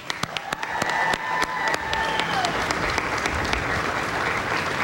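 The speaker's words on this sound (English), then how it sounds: "Give Adam a big round of applause." Outdoor crowd applause at a Fourth of July celebration on the White House South Lawn honoring an airman, opening with a few sharp separate claps that build into steady, dense clapping mixed with faint cheers and whistles.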